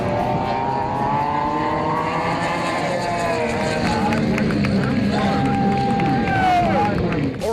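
A two-stroke racing boat motor screams at high RPM, over 11,000 revs, during DRSA drag boat races on the Sabine, a loud sustained whine rising and falling in pitch as the engine passes, with a voice talking over it.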